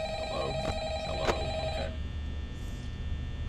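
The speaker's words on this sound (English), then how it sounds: "just answer the phone!" An old-style telephone rings in the Five Nights at Freddy's game, a bright trilling bell that sounds once and then fades out over a low background hum.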